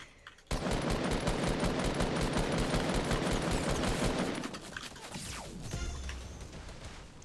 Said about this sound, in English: Wait, he's getting shot elsewhere.